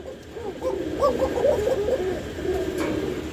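A pair of black Shalik Koka pigeons, a rare breed, coo in a soft repeated rolling call, close by over a quiet background hiss.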